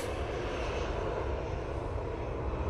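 A Ryanair airliner vacating the runway at Manchester Airport, its jet engines producing a steady, broad roar that stays loud and unbroken throughout the short stretch, with no talking.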